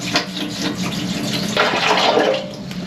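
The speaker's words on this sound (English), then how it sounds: "I'm gonna fill it with this blue dyed water. I'm gonna put a couple gallons in there" Blue-dyed water is poured from a jug into a boat's water tank, a steady splashing, gurgling fill that swells slightly toward the end.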